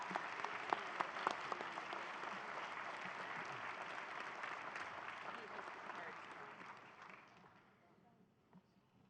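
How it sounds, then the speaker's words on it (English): A large audience at a university autumn convocation gives a sustained round of applause, a dense wash of clapping with a few sharper nearby claps that gradually fades out toward the end. "let's take advantage of the change of orators to have a round of applause for those who have already crossed"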